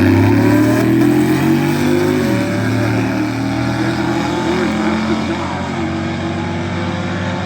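Drag race cars, a Mustang and a Camaro, accelerate down the strip at a bracket race, loud engines roaring and shifting pitch as they pull away, sustained throughout without talk.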